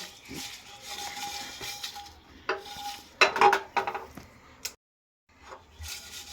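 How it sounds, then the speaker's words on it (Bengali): Whole cumin seeds and dried chillies are dry roasted in an empty wok, heard as a close spatula scraping and clattering against the metal in short bursts, with a brief silent gap before a last stir. "এবার এটা শুকনো কড়াইয়ে আমি ভেজে নিচ্ছি"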